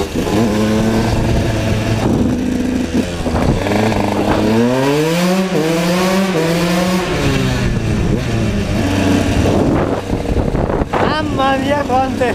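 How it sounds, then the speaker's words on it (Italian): A KTM 125 motorcycle engine is revved hard up close, its loud pitch sweeping up and falling back in repeated rises, with a final sharp blip at the end. "La tiriamo un po' sta moto!"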